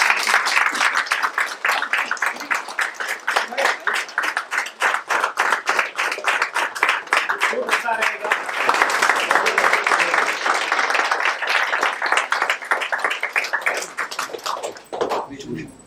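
An audience at a Hindi stage performance of the play Bakari bursts into sustained, fairly close clapping and applause, many hands in a dense rhythmic patter that fades toward the end.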